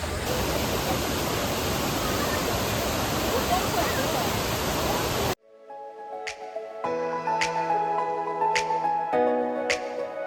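Lakkam Falls, a hidden waterfall reached by a short walk inland, gives a steady, full roar of falling water for about five seconds before it cuts abruptly to music.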